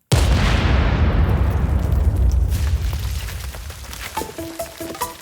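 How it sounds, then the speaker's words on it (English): A dynamite blast on an Oregon beach rips apart a dead whale carcass: one sudden, very loud boom that rolls into a long, fading rumble, followed by faint scattered debris and crowd noise. "The explosion was everything people expected, for about 3 seconds."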